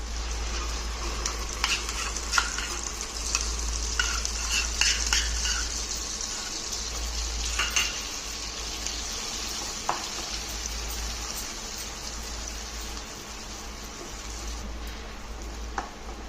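Ground paste is frying in hot oil for a paneer curry. A loud, continuous sizzle and crackle runs close up throughout, with occasional scrapes and taps of a spoon against the pan and a steady low hum beneath, with no talk.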